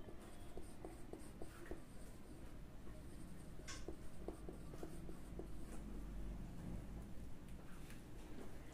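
Marker or chalk scratches and taps on a board as notes are written during a game theory lesson, making faint, short, irregular strokes against a quiet room hum.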